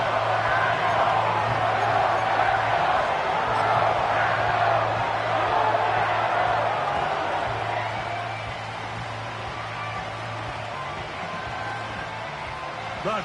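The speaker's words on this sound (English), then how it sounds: "The crowd making their presence felt." A football stadium crowd roars steadily during a game, loud and broad for several seconds before easing back somewhat, with an announcer's voice running over the noise.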